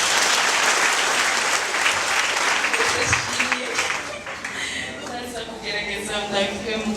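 A church congregation claps for Jesus during a Kinyarwanda worship service, a loud, dense ovation that thins out after a few seconds while a voice and scattered cheering continue over the dwindling claps.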